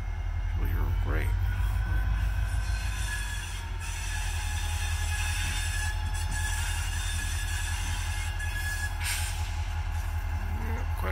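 Norfolk Southern SD40-2 diesel locomotive number 3312 on a local freight, moving on track near a yard, gives a steady low rumble with a faint high squeal, under continuous voices talking throughout.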